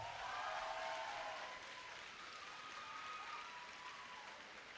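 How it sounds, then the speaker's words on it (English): Sustained applause for the mothers at a high school graduation, a steady wash of clapping from a large crowd, fairly distant and even in level throughout. "A round of applause to all our mothers"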